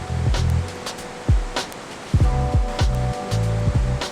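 A muddy creek swollen by heavy rain rushes past a fishing spot in New York's Hudson Valley. The steady roar of water fills the clip, broken by some low rumbling bursts.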